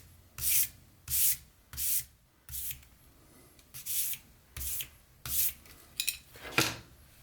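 A utility knife blade is drawn across a sharpening stone in about nine separate strokes, each a close, gritty scraping rasp with short quiet pauses between.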